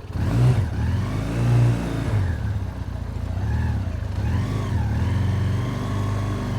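A Ural Neo 500 motorcycle rides off-road across a grass lawn, its mid-pitched engine droning steadily and swelling in a few revving surges, heard fairly close with no talking.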